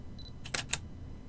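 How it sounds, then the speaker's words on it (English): A Canon camera shutter fires once, heard as a close, crisp double click of the mirror and shutter in quick succession, preceded by a faint high electronic beep in a quiet room. "You can hear it take a picture."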